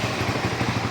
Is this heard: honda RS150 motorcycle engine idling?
yes